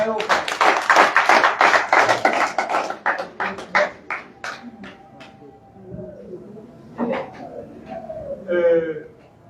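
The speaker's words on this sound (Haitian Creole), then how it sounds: "Merci de battre un gros bravo pour eux même" An audience applauds delegates of an agricultural federation, a dense burst of close clapping that thins into scattered claps as a voice speaks over it near the end.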